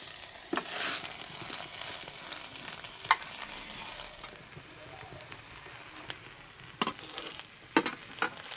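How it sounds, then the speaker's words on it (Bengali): A folded, stuffed tiffin snack frying in a pan, heard as a soft, low sizzle close by, broken by intermittent scraping and clinking strokes of a spatula turning and pressing it. "এবার একটু ভালো করে ভেজে নেব।"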